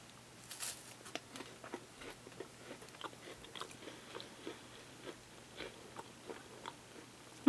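Close-up biting and chewing of a soft peanut butter chocolate wafer bar from Bulgaria, with a series of small crunchy chews in a steady, fairly quiet rhythm and no talking.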